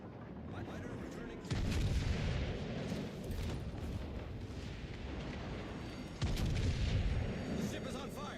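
Two heavy salvos from a warship's front guns in the video game World of Warships Legends boom out several seconds apart, each followed by a rumbling roar over constant battle noise, with a player talking in the background.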